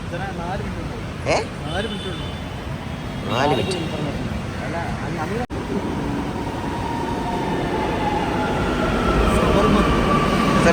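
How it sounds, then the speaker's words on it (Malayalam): A train rumbles into a station and rolls past close by with steady wheel noise and brief screeches, while people talk over it at first. "ട്രെയിൻ എന്താ വരാതെ"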